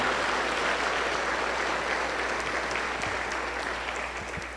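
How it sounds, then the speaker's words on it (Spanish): A Pentecostal church congregation applauds in worship, a continuous wash of many hands clapping that stays even and fairly loud before easing slightly at the end. "Aplauso para el Señor Jesús."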